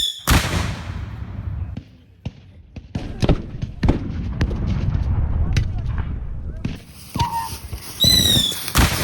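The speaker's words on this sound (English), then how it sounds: "there are 45 Union cannon, which begin to rain shells down on the advancing Confederate troops" Repeated heavy booms of Civil War cannon artillery fire at the Battle of Stones River thud one after another, loud and resonant, some overlapping, with rumbling between shots and a high whistling tone near the end.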